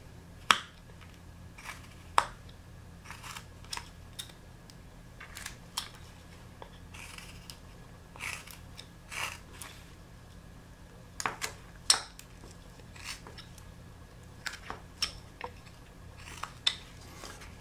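A small knife cuts into wood while carving a Santa ornament, making faint, scattered sharp clicks and snips spaced irregularly over a quiet background.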